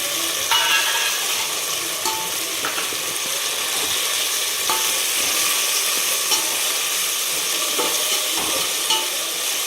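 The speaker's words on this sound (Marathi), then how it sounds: "ती पण आपण परतून घेणार आहे छान" A pan of tomato and paste sautéing for a chicken thali, a constant loud sizzle broken by repeated stirring scrapes and clinks of a spoon against the pan, close up and without talk.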